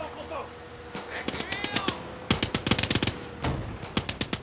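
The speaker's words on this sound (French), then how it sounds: "Il tire sur les crocos, les gars." Rapid gunfire rings out in Far Cry 6 as shots are aimed at crocodiles, with loud, sharp bursts of repeated cracks in quick rhythmic runs and a voice talking in the middle.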